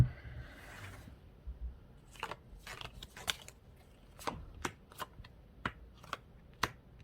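Tarot cards are shuffled by hand in a quiet room, giving a series of crisp riffling snaps and slides in uneven bursts, close and moderately loud.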